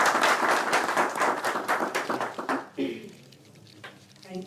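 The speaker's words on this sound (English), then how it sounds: "A round of applause for her." Audience applause for a speaker at an academic conference, brisk crowd clapping that fades out midway, followed by a voice beginning to talk over the quieter room.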